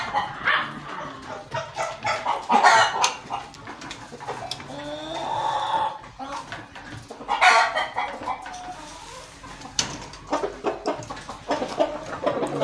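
Roosters cluck and call in a farmyard, close and fairly loud, with a dog barking now and then among them.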